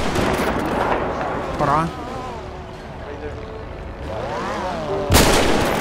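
In Grand Theft Auto V roleplay, someone talks over game noise and background rumble, then a single loud sniper rifle shot cracks near the end.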